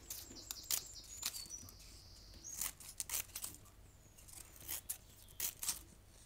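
Scissors snipping into a strip of paper to make a frilly fringe, a faint series of short, crisp cuts in quick irregular bursts close by, with no talking over it.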